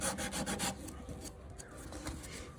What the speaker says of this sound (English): I'm gonna take my sandpaper, and I'm just gonna slowly rotate it in